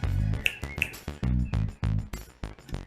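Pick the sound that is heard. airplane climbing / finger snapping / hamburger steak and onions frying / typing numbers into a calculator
finger snapping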